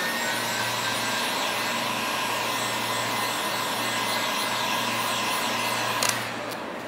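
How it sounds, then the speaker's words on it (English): A heat gun blows with a steady, loud, whirring hiss and motor hum while vinyl is wrapped onto a mirror. It runs continuously and alone, then the level drops near the end. "I'll use my heat gun."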